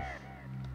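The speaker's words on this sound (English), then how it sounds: "Bird!" A single harsh crow caw from a bird in the video game Donkey Kong Country, short and clear over a low steady hum of game background sound.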